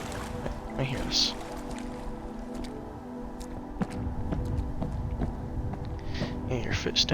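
Wet, slightly sloppy footsteps after stepping in water in the video game Dreampools, soft squelchy steps at a steady pace under a low ambient hum, with a few brighter splashy touches near the start and end.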